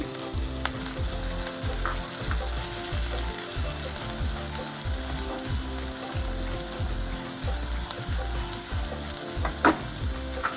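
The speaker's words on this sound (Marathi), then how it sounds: "तेल तापलं की हे जे कांदे चिरून घेतलेले आहेत ते भाजून घेऊ" Chopped onions fry in about three spoons of hot oil in a kadhai, a loud, continuous close sizzle with a regular pulsing rhythm and faint stirring clicks, no talking.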